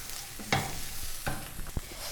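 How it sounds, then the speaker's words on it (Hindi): Vegetables with spices being stir-fried in a pan: a low sizzle under a few distinct spatula scrapes and knocks against the pan, close and moderately quiet, with no talking. "स्पाइसेस डालने के बाद हमने इसको यहाँ पर भून लेना है।"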